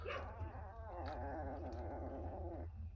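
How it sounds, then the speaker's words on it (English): Three-week-old puppies growl continuously in a close, rumbling chorus, with whiny, wavering yelps rising over the top throughout. "We're checking on the pups."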